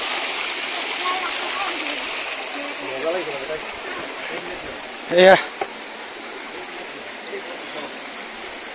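A mountain stream rushes at Bhalukjuri Waterfall in Karbi Anglong, a constant broad watery hiss throughout, with someone speaking briefly over it and a short splash or knock midway.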